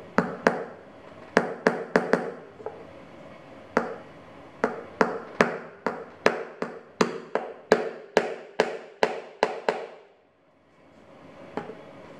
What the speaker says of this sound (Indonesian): Oke, sekarang kita akan paku ya